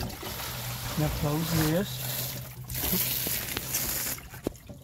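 Water pushed through an RV tank flush line into the gray holding tank, a steady trickling, gurgling flow under a man's brief speech, with faint clicks and handling noises near the end.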